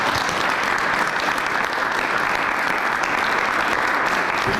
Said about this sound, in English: I want a big round of applause for all of our artists